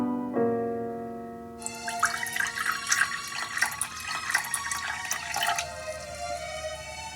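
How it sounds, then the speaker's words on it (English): Coffee poured into a cup in a living room beside a Christmas tree, a close, bright liquid trickle and splash starting after a quiet moment, running steadily for several seconds before tapering off. "Here I am, pouring myself a cup of coffee beside the Christmas tree in the living room"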